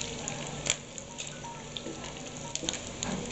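Adobong puti, Bicol-style adobo with salt, pepper, garlic and bay leaf, crackles and spits in a frying pan: soft continuous sizzle broken by a few sharp pops, fairly quiet and close.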